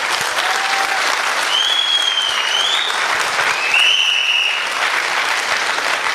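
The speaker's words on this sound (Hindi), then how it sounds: "हाँ, ये ताली लगाओ।" An audience at a motivational success seminar applauds, a loud dense wash of clapping that holds steady throughout, with a few whistles over it.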